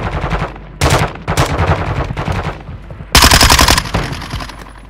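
Rapid automatic gunfire in a battle royale video game, loud bursts of machine-gun shots in several clusters with brief pauses between volleys, close and sharp.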